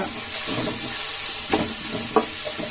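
Spices such as coriander, fennel and cumin stirred into onions in a frying pan for aloo kachori filling, a steady close sizzle with a few brief scraping clinks of the spoon.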